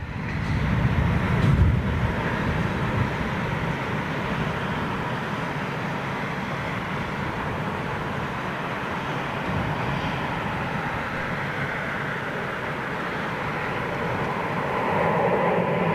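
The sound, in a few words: Qantas Dreamliner jet airliner flying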